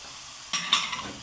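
Chicken frying in a pan with curry powder, cardamom, ginger, garlic powder, black pepper and coriander: a soft stir followed by brief sizzling and a scrape, close and quiet.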